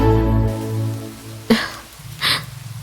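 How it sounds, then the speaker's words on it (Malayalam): Heavy rain falls in a steady, close wash of hiss, with a couple of brief louder splashing bursts partway through. "എന്തൊരു മഴയാ ചേട്ടാ. മഴ തന്നെ മഴ."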